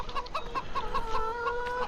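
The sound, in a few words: chickens clucking in Farming Simulator 2015 video game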